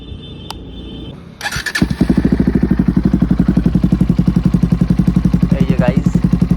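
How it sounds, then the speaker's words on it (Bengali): A BS6 Bajaj Pulsar NS 160 motorcycle with an SC Project exhaust and DB killer fires up after a brief beep and settles into a loud, close, steady idle with a deep rhythmic thump and pop, while a voice speaks over it. "এবার ফাইনালি তোমাদের এবার এক্সস্টের সাউন্ডটা শুনিয়ে দিই।"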